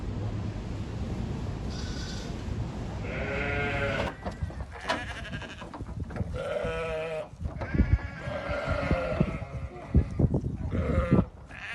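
Ewes and lambs bleat in a lambing shed on a farm, with several overlapping calls, some near and some farther off. A low murmur of background talk runs beneath the repeated cries.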